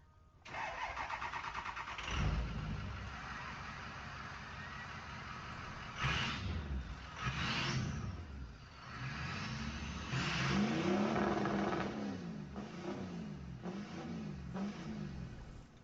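A car fitted with a Mitsubishi EVO 4G63 engine cranks over and starts, then revs repeatedly in loud rising bursts before settling into a rough idle between blips, recorded close up with no talking.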